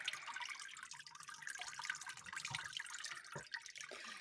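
Whey drains from homemade curd cheese made from natural milk, a soft continuous trickle with faint irregular drips, quiet and close, with no voices.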